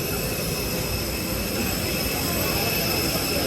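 Steady loud roar of a twin-engine jet airliner at an airport, a continuous broadband engine drone with a high whine, close and unbroken throughout.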